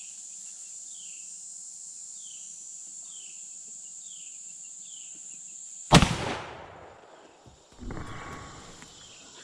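A single loud 50-110 WCF lever action rifle shot, a 550 grain solid lead bullet fired at mild steel, cracks sharply over steady outdoor cricket chirping, followed by a decaying echo and a smaller clank a couple of seconds later.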